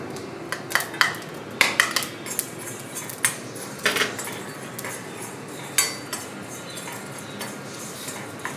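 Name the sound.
sautéing spices in oil in an iron pan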